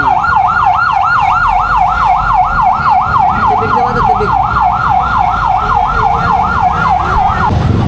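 An ambulance siren wails at an accident scene, loud and close, with a fast rising-and-falling yelp repeating steadily throughout while someone speaks briefly underneath.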